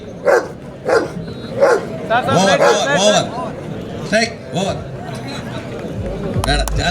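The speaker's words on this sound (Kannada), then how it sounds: "ಒಂದು ಸಲ ಕಮಾಂಡ್ ಕೊಟ್ಟ ಮೇಲೆ ಮಾಸ್ಟರ್ ಮಾತನ್ನೇ ಕೇಳದಂತಹ ಡಾಗ್ ನಮ್ದು ಕಿನ್ನಿ" A trained dog performs at a dog stunt show during a temple fair, giving a few sharp barks and yips amid loud crowd chatter and someone talking over a public address.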